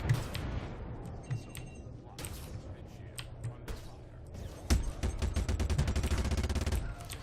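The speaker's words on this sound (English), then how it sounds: "Hey, missiles away." Missiles launching from a Vanguard Warden ship in a space combat game: a burst of sharp, rapid mechanical firing thuds, then a steadier rattling volley, moderately loud under a faint voice.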